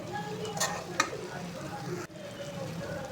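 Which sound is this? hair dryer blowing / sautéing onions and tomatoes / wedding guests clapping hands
sautéing onions and tomatoes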